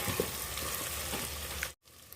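Mutton pieces and potatoes fry together in a pan over low-to-high flame, a soft continuous sizzle heard close but faint, briefly dropping to near silence before resuming quietly.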